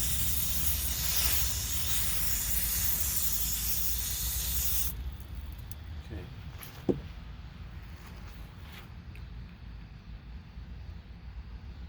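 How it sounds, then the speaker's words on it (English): Water from a garden hose sprays over freshly picked garden produce outdoors, a loud broad hiss for about five seconds that then stops, leaving faint outdoor ambience, with no talking. "Go ahead and spray this off."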